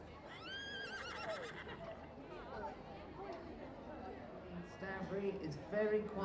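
A big, lively horse whinnies loudly in a show ring at a horse and dog show, heard over an announcer's continuous commentary and crowd murmur.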